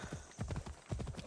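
Horse galloping in the video game Assassin's Creed Odyssey, quick rhythmic clip-clop hoofbeats in close, repeated bursts.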